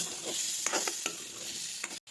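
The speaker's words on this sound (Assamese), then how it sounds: "এতিয়া তাতে মই দি দিছোঁ আলুখিনি মই অকণমান সময়তে ভাজি ল'ম।" Potatoes frying over a low flame in a pan, a close, continuous sizzle with a few brief stirring scrapes, ending in a sudden cut near the close.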